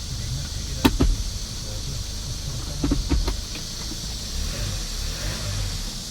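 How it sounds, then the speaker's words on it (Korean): A Hyundai Porter II Super Cab 1-ton truck (2019, Euro 6 engine) idles with a steady low rumble, punctuated by a couple of brief sharp clicks and rattles nearby. "엔진 소음"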